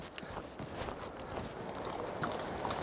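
Horses walking on a rocky hiking trail in Torres del Paine National Park, Patagonia, used to haul camping loads; a dense, steady patter of hoof clops and footsteps, moderately close, with no clear talk.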